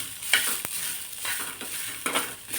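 Fresh green moong beans roasting with green chillies in a hot pan for mung bean aamti, giving a soft steady sizzle broken by a few sharp scraping stirs.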